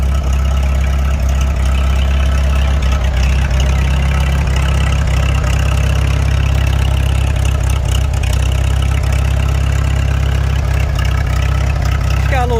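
A Farmall H tractor engine, never rebuilt, idles with a low, steady rumble and an occasional slight skip in its rhythm, loud and close throughout.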